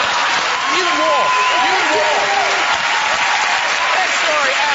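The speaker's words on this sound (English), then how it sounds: "The choir are applauding" Studio audience and choir applauding on a television talk show, dense steady clapping throughout with people talking and exclaiming over it.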